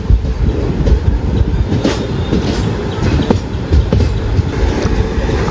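Kozhikode Jan Shatabdi passenger train rolling into Kayamkulam Junction, a loud, steady rumble of wheels with rhythmic clickety-clack over rail joints and occasional sharp metallic clanks, close by with no voices.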